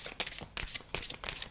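Tarot cards being shuffled by hand in a French reading, three quick riffling bursts of crisp papery flutter, close and fairly quiet, with no talk.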